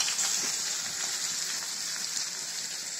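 Onion, cumin paste and black pepper frying hard in a pan for chicken bhuna khichuri, a loud, dense, continuous sizzle and crackle close by, with no voices.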